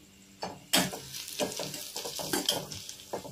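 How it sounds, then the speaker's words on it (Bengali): Onion, garlic and green chilli frying in a pan with a soft sizzle, stirred in several scraping strokes that come in irregular bursts, close by. "যে পেঁয়াজ, রসুন, কাঁচা লঙ্কা যে ভাজা ভাজা হয়েছে"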